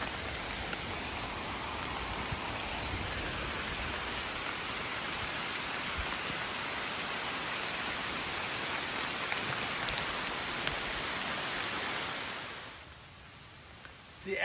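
A quick storm on a thru-hike of the Bartram Trail pours heavy rain and hail, a dense, even roar of drops pelting surfaces up close that holds for about twelve seconds before dropping away abruptly.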